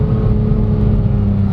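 A 2016 Porsche 911 GT3 RS (991.1) with its flat-six engine holds a steady, loud, close mechanical drone with no obvious revving and no voices.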